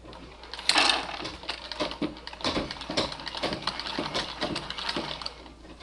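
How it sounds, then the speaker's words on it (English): A Singer treadle sewing machine runs with its hand wheel turned forward, giving a steady run of quick mechanical ticks and clatter that rises sharply near the start and then holds at a close, even pace with no voices. "You want to turn the hand wheel forward to get the treadle going."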